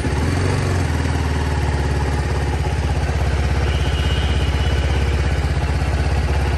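A motorcycle engine catches near the start, then idles with a steady, close, rhythmic thumping chug that continues without a break.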